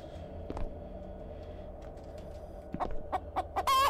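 A chicken in the Saborus video game clucks in scattered short bursts, quiet at first and then quicker and louder toward the end, over a faint steady hum.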